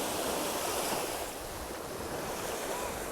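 Sea waves breaking on a beach in Bar, Montenegro, a continuous loud wash of surf with wind buffeting the microphone, no talk.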